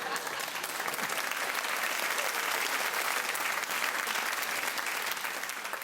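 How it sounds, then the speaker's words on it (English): Dense audience applause from a radio comedy show crowd fills the whole stretch, a steady wash of many hands clapping without a break. "Was that clapping or somebody put the chips in?"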